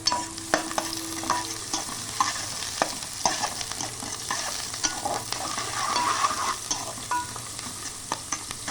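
Onion, green chilli and curry leaves fry in a pan for a village-style brinjal and dried fish tamarind curry, producing a continuous sizzle with frequent utensil scrapes and knocks as the mixture is stirred, close and fairly loud.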